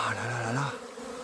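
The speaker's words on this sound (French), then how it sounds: "Super essaimage. Des milliers d'abeilles." A swarm of thousands of honeybees buzzes steadily in an exotic garden as they settle under a roof, a dense continuous drone heard close with no talking.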